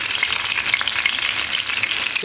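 Potatoes frying in hot oil, a dense, loud, continuous crackling sizzle with bubbling close by.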